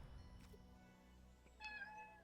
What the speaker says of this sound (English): Oh, to my very screamy cat.